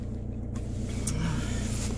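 A car drives along, its engine and road noise forming a steady low rumble from inside the cabin, rising slightly partway through, with no speech.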